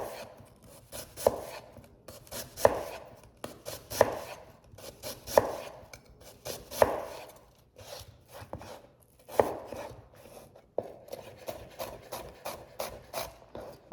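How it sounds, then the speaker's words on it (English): Onions chopped finely with a knife on a board, a brisk run of sharp, close taps in quick bursts with short pauses between them. "I'm going to chop these onions as finely as I can possibly get them."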